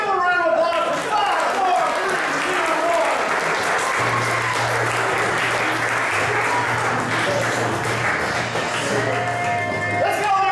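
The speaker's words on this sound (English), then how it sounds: "Give a round of applause for 5" Loud, sustained applause from a large audience fills the whole stretch, with crowd noise and voices mixed through it and a low steady tone entering partway.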